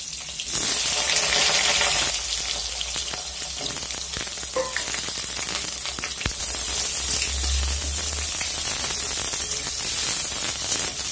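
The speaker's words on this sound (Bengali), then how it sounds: "ওই তেলের মধ্যেই কেটে রাখা বেগুনগুলো দিয়ে দিচ্ছি।" Chopped eggplant frying in hot oil in a home kitchen, a steady loud crackling sizzle that runs throughout, with a few utensil clinks partway through and no talking.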